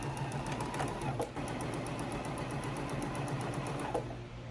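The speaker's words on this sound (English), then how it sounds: "This is a 1/4 inch foot on my sewing machine." Sewing machine fitted with a 1/4 inch presser foot stitching quilt pieces, a steady rapid mechanical whir with fast needle ticking running continuously and close up, with no pause.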